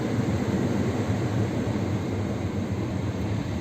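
Constant broadband whoosh of a Hyundai i20 Sportz AC blower running with a worn cabin filter, a rough, unvarying airy roar with no pauses or voices.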